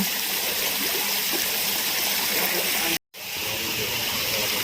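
A garden pond fountain sprays water in thin streams, making a loud, steady rushing splash that runs continuously, broken only by a brief cut near the end.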